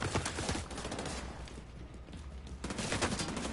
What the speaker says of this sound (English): Where are they shooting me?